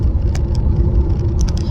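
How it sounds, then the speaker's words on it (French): A Peugeot 407 SW drives at about 95 km/h. There is a loud, steady interior rumble of engine and road noise, with faint ticks and rattles above it and no speech. "la voiture elle roule bien"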